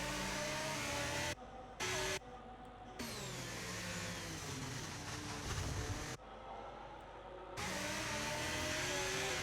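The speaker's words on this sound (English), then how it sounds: "Arrow now overtakes the safety car" A racing car engine roars continuously from a racing video game on the Singapore street circuit as it overtakes the safety car, a loud, sustained drone with a few abrupt cuts and shifts in pitch.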